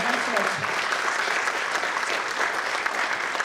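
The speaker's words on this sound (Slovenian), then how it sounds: "En aplavz za staro ljudi." Applause from an audience at a reception for volunteers, a dense continuous clapping roar filling the room, loud and even throughout.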